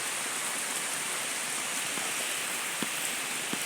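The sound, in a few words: rain falling on banana leaves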